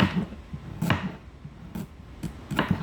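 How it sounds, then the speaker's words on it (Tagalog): A knife slices firm carrots on a cutting board: scattered sharp strikes at an uneven pace, close and fairly quiet, no talking. "Tapos yung carrots, ito. Irarumble ko lang pag-slice"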